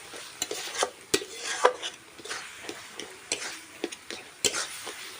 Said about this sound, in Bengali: একটু আমি খুন্তি দিয়ে ঘেঁটে নেব